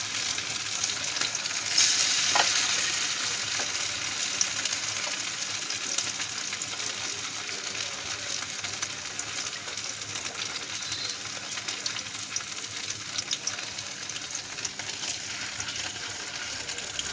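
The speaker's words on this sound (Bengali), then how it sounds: "এইভাবে ময়দা মাখিয়ে মাখিয়ে চাক চাক করে কেটে ভেজে নেব" Flour-coated slices of paneer fry in hot oil, a steady, moderately quiet sizzle and crackle that continues alone throughout, with an occasional brief stir.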